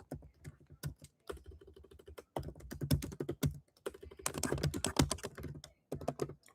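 Someone types on a computer keyboard in a classroom, with quick bursts of close key clicks and a few short pauses between runs of keystrokes.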